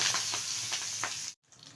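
Gourd leaves wrapped around puti fish hiss and sizzle steadily in hot oil, a loud close frying crackle that cuts out abruptly near the end and then resumes faintly.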